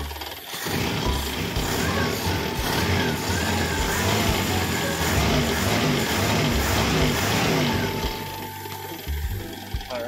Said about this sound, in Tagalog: Yung marinig nyo lang yung lagitik nung packing bearing ng alternator